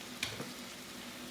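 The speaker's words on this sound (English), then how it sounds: "we're going to just start frying up these bangers." Bangers sausages frying in a pan give a steady, close hiss of sizzling with a couple of brief spits near the start.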